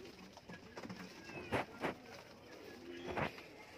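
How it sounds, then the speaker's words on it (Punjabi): Ferozpuri pigeons kept for sale give soft, low cooing calls, a few brief murmurs close by against a quiet background. "ਆਹ ਵੇਖੋ ਫਿਰੋਜ਼ਪੁਰੀ ਕਬੂਤਰ"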